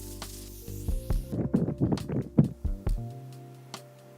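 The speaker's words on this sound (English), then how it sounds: "I'm gonna be using the Fix setting spray, and this one is their summer edition." A Fix summer-edition aerosol makeup setting spray releases a series of short, close hissing mist bursts in quick succession, fading into quiet.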